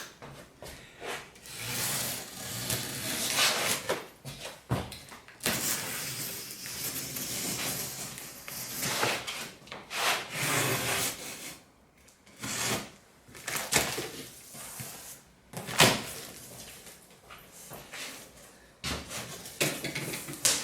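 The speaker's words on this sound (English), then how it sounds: "We're going to take the knife and we're going to open the box." A knife cuts open the cardboard box of a Makita MLT100N table saw, making scraping, tearing and rubbing sounds in irregular bursts over about twenty seconds, with a few sharp knocks.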